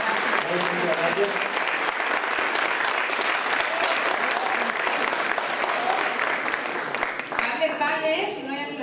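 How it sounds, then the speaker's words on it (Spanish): An audience applauds chef Alma Cervantes Cota at a Sinaloan tasting of corn pinole, with steady loud clapping for about seven seconds before it thins and voices come through near the end. "Un fuerte aplauso a la chef Alma"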